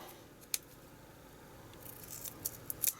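Scissors cut duct tape at a Doctor Who Sonic Screwdriver prop build, sharp snips, one early and a cluster of several quick ones near the end, close and distinct over quiet room noise.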